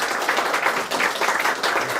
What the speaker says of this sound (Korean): 자, 박수 한 번 부탁드리겠습니다.